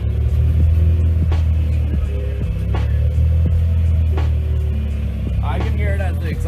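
A Honda Civic with VTEC engine idles with a low steady rumble and throb, heard up close at the exhaust, with a few soft clicks and a brief voice near the end.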